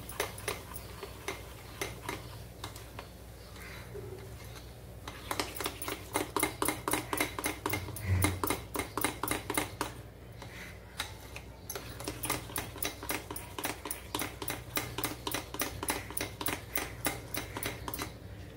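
Bread batter of Eno and water being whisked in a bowl, a fast, steady clatter of utensil against the bowl in long rhythmic runs with brief pauses, close and fairly loud with no talk.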